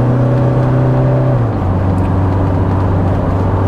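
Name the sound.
Toyota Hilux 2.8 diesel engine accelerating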